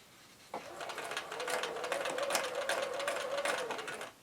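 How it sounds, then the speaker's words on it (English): A sewing machine stitches fabric along a diagonal tape line, beginning on a scrap of fabric while piecing flying geese quilt units. It gives a steady, close mechanical whir that runs unbroken for about three and a half seconds, with no talking. "then I'll sew on that diagonal"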